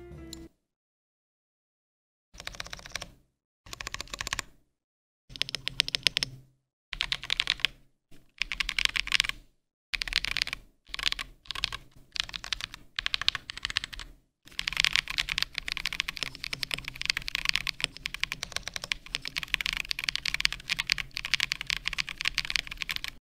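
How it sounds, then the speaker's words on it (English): A stock mechanical keyboard's keys clack in bursts of fast typing separated by short pauses, close and crisp, ending in a long continuous run. "this is how the keyboard sounds stock."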